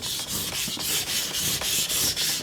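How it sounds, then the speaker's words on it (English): Scrubbing a glazed sharpening stone during restoration of a 50-year-old puukko knife: steady, rhythmic gritty rubbing strokes, close and loud, with no voices. "Your stone doesn't cut. You don't need the dressing stone yet, but just a good scrub and we can get back to work."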